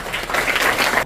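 Brief burst of audience clapping at a neighborhood residents' general assembly, dense and close, lasting about a second before cutting off abruptly.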